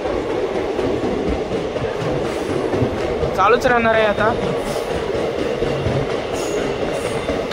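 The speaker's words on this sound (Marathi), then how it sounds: "काय वेग घेते ही ट्रेन आणि स्पीड पण खूप पकडते फास्ट मध्ये" Passenger train running fast on an Indian line between Maharashtra and Gujarat, a steady broadband rumble of wheels and carriage throughout, with a brief rising squeal and clatter in the middle and someone talking over it.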